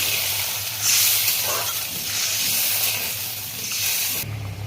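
Water poured into a pan of hilsa in mustard paste curry sets off a loud, steady hiss of sizzling steam that swells early on and runs throughout, cutting off abruptly near the end.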